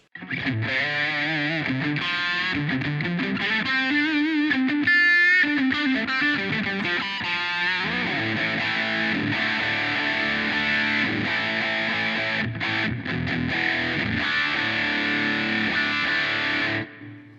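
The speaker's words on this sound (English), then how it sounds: "essentially I'm using the Hall reverb on that." Distorted electric guitar plays a phrase of sustained notes and bends, washed in spacious hall-like reverb, loud and continuous before cutting off.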